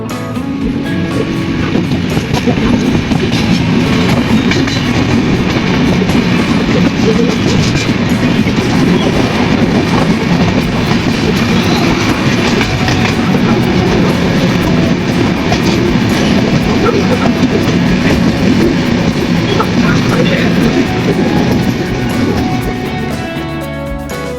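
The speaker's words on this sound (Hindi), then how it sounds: "ट्रेन अपने डेस्टिनेशन की ओर बढ़ रही थी" A passenger train rolls steadily along the rails, a loud, continuous rumble and rattle with faint rhythmic clatter filling the whole stretch at close range.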